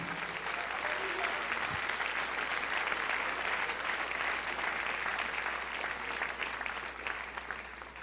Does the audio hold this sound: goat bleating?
no